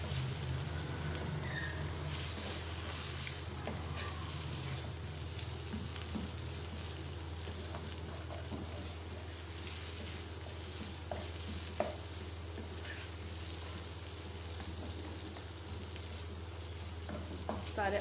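Boiled potatoes with homemade spices fry and get stirred in a pan, making a steady soft sizzle with occasional scraping strokes of the spoon, close and continuous, with no talking.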